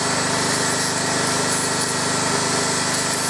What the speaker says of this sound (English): using the grinder to get the worst off